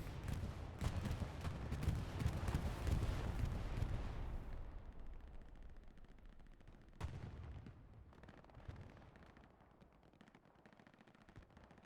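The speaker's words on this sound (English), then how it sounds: "This is a Refuze bombing run." A bombing run in the Hell Let Loose video game on Omaha Beach, heard as loud rumbling blasts mixed with rapid machine-gun fire that fade out midway, then one more sharp blast followed by scattered distant shots.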